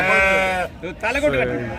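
At a weekly sheep market in Gudur, a sheep or lamb lets out a loud, close, wavering bleat, followed by further shorter bleats mixed with people talking nearby.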